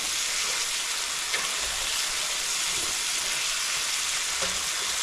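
Fatty 80-20 hamburger meat fries in far too much oil, giving a steady, dense sizzle that runs unbroken and close throughout, with no talking.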